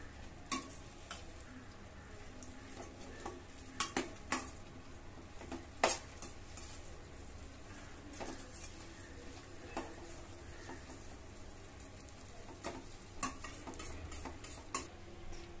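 Mixed dry fruits for laddus being roasted and stirred in a pan, with a low steady sizzle broken by scattered clicks and scrapes of a spoon against the metal, all fairly quiet and close.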